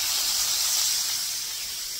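Mushrooms frying in plenty of oil in a pan, with a steady, close, bright hiss and sizzle that runs unbroken and fades a little toward the end, with no talking.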